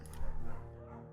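A scruffy, undersized beagle in the video game Firewatch gives a couple of short barks near the start, moderately faint, then the sound tails off into a low background.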